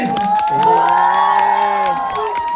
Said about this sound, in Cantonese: 我不如俾少掌聲好唔好啊？